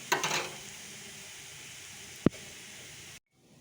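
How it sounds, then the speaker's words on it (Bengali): Potatoes fry in a pan with a faint, even sizzle. A brief burst of sound comes at the start and a single sharp click follows before the sound cuts off. "আলু ভাজা তো হতে থাক"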